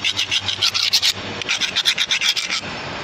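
Excess material is scraped away by hand in a quick series of about a dozen rhythmic rasping strokes, close and loud, with a short break partway through.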